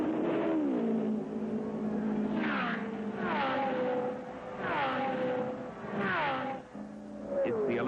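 A vintage Indycar race car engine at speed on an oval track, a loud, high-pitched whine that rises and falls repeatedly as cars pass, sustained and roaring throughout.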